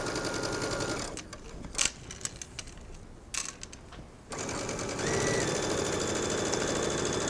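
A sewing machine stitches along the inside edge of a two-part jacket sleeve seam toward the hem, running in rapid mechanical bursts with a pause and clicks in between, then resuming steadily.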